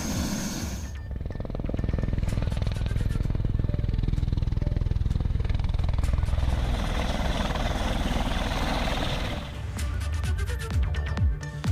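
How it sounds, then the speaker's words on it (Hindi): A Heritage Aviation helicopter carrying pilgrims to Badrinath, in the Himalayas of Uttarakhand, with a loud, steady rotor and turbine roar and a rapid chopping pulse close by that eases near the end. "हेरिटेज एविएशन के हेलीकॉप्टर से 6 श्रद्धालु भगवान बद्रीनाथ के दर्शनों के लिए पहुंचे।"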